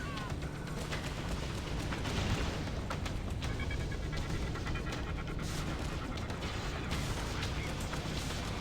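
Weapons fire in a Freelancer space battle, a dense, continuous wall of laser and explosion noise with crackling bursts and rumbling blasts, loud and unbroken throughout.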